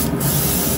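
A steady, loud hiss of a paint spray gun spraying fishing lures continuously at close range, with no talking.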